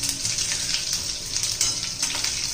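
Chopped garlic fries in hot oil with a spluttered tempering in a kadhai, giving a steady close sizzle with bursts of crackling and no voices.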